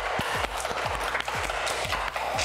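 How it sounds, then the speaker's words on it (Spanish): Audience applause at a fashion show runway parade, steady clapping from a crowd filling the space with a few brief thumping beats underneath. "Aplauso para ella."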